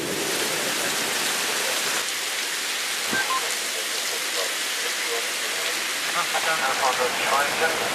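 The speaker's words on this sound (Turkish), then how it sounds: "Edirne'de rüzgar ve kuvvetli sağanak etkili oldu." Steady heavy rain pours down in a dense, continuous hiss during a downpour with wind in Edirne, Turkey, with a faint tone and some muffled background voices mixed in.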